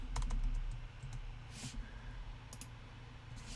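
Computer keyboard keys click in a short, uneven burst of typing close to the microphone, with quiet pauses between the keystrokes.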